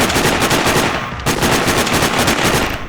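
Loud, rapid gunfire from the Sniper Ghost Warrior video game, with dense bursts of automatic shots rattling nearly continuously for a few seconds and a brief gap partway through.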